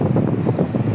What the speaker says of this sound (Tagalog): Paghapon dito guys ay presko na, napakalakas ng hangin.